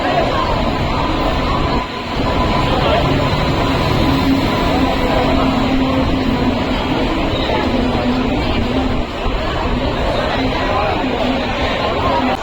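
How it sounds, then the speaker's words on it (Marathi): Loud, continuous rumble of the crowded Konkan Kanya Express train at a platform, a dense roar with faint tonal hum and crowd noise mixed in. "आमच्या अगोदरची गाडी कोकण कन्या ही आली आहे प्लॅटफॉर्मवरती"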